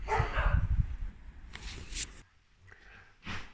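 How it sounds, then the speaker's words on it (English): Dogs barking behind garden fences at a vegetable plot where onions and shallots are being dug, a few sharp barks and yips standing out over rustling and light background noise. "I'm going to jump in now in case one of these bloody dogs jumps over the fences like Cujo"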